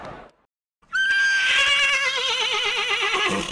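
A single loud horse whinny rings out up close, a high quavering neigh that trembles and trails downward after a brief silence.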